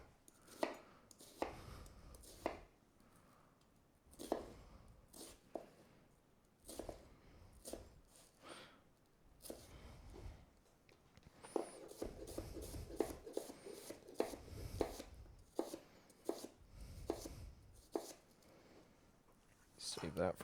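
A knife cuts through an onion on a board in a run of sharp, repeated chopping knocks, some spaced and some in quick bursts, close by and with a voice talking over them.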